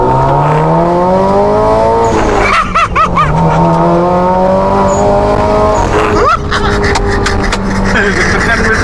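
A 2012 Subaru WRX STI Spec C accelerates hard, heard from inside the car. The engine pitch climbs through several gears with brief dips at each shift, loud and close, with occasional voices under the engine.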